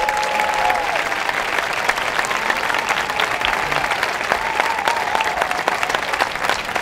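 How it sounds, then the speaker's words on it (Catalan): Loud, dense applause from the audience at an end-of-year concert of a municipal music school, a continuous wash of many hands clapping that holds steady for several seconds. "Un fort aplaudiment."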